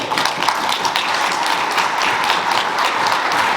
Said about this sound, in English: And your applause reiterates that